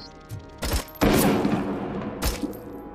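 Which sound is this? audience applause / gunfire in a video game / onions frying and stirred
gunfire in a video game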